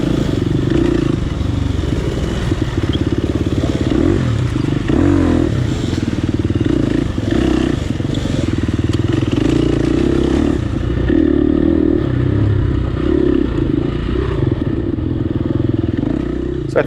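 Enduro motorcycles ride a forest trail during a family enduro event, engines droning loud and close with steady revving throughout, mixed with clatter and scraping from the bikes on the ground.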